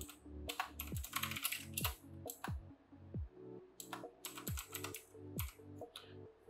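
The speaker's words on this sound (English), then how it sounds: "Just type in Windows activate." Computer keyboard typed on up close, quick irregular runs of crisp key clicks with brief pauses between bursts, no voices.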